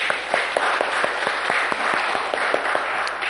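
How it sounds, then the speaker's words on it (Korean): Congregation applause in a church, with steady clapping from many hands and distinct individual claps rising above the mass, sustained at a moderate level throughout. "하나님께 영광의 박수를 돌립시다"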